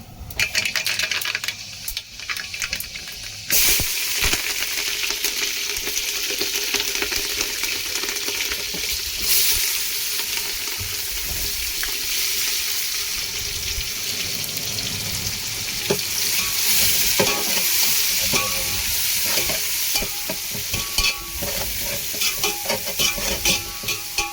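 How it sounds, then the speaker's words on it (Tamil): Onions frying in a pan for a rock fish curry, a continuous close sizzle with repeated stirring and scraping, and water running in the background. "வெங்காயம் நல்லா பொன்னிறம் வரணுமா"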